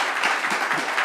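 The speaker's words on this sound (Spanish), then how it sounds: "Un aplauso para él." Brief burst of audience applause for a speaker, dense and fairly loud, sustained evenly across a second with no voices over it.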